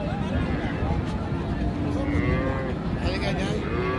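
Cattle moo repeatedly at a busy livestock market where Deshal and Sahiwal cows and young bulls are sold, long low calls rising over the constant babble of a crowd.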